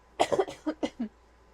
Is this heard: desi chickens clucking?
no